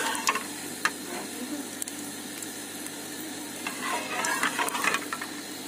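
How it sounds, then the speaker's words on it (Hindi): White cumin seeds sizzle in hot oil for a dal tempering, a continuous close crackling fry with scattered sharp pops and faint stirring clatter. "सफेद जीरे का मैं तड़का लगा रही हूँ इधर।"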